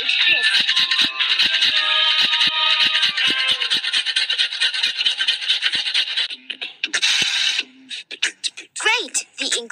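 Rapid rasping scrapes of pizza ingredients being grated in a Masha and the Bear pizzeria video game, a dense burst of strokes followed by sparser rubs and a short cartoonish voice near the end.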